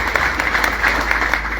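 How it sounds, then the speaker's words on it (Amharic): A church congregation applauding together, dense continuous clapping from many hands in a reverberant hall, loud and sustained with no pauses. "አጨብጭቡ ለእግዚአብሔር።"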